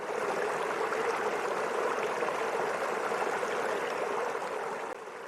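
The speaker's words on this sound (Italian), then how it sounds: "La cascata che scivola su un drappo di tessuto pietrificato, un deposito di travertino" A waterfall slides over a travertine deposit in a green forest, making a steady, dense rush of falling water that stays even and unbroken throughout, moderately loud and with no voices.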